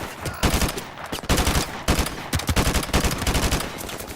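An AK assault rifle fires in Modern Warfare Remastered, loud close bursts of rapid shots in repeated strings with short pauses between them, and no talk over them.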